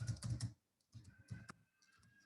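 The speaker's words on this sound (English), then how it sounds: "So I am typing the username Aftab and password." A password is typed on a computer keyboard at a Windows Server 2016 login. Three quick clusters of soft, close keystrokes are broken by brief pauses, without speech.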